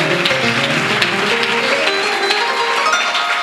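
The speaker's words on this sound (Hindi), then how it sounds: "दिल से यीशु मसीह के लिए तालियां बजाएंगे।" A church congregation claps together for Jesus Christ, producing a dense, steady wash of applause that stays loud and even throughout. Faint tonal lines suggest music playing underneath.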